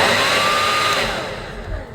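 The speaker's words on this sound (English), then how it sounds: "Hairdryer, because it speeds up the process." A £90 hair dryer blows with a loud, steady whirring hiss right up close, then its pitch and volume sink slightly as the short burst ends.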